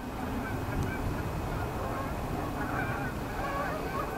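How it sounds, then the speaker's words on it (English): A family of geese honking on open wetlands, scattered overlapping honks at moderate distance over a steady outdoor background, with no talking. "Got a family of geese out here on the wetlands"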